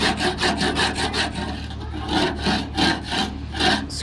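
Paint being scraped off the flaking edges of a 1956 Chevy truck bed, a harsh, gritty rasping in repeated back-and-forth strokes, close and fairly loud, briefly easing midway before resuming.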